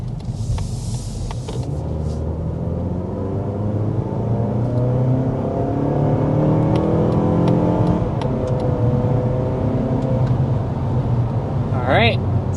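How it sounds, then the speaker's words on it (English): A 2025 Mazda 3 Select Sport accelerates hard, heard from inside the cabin as a loud, steady engine drone with rising harmonics and a continuous road rumble, with someone talking over it. "let's go ahead and start with a hard acceleration."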